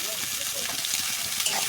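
Vegetables dropped into hot oil while making chow mein, giving a steady, close hiss and sizzle of frying with a voice talking over it.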